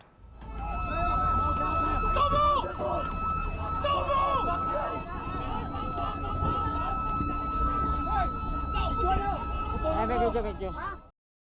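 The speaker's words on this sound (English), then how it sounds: "They blared sirens and strobe lights." Ship sirens wail steadily with sustained high tones while voices shout and talk over a loud, chaotic background, during a clash between Chinese and Philippine vessels in the South China Sea.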